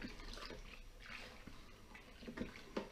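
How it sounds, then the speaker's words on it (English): Fine brewing sugar is stirred into water for a home brew, giving soft swishing, sloshing liquid sounds with light clinks, faint and close by. "and you give it a good stir"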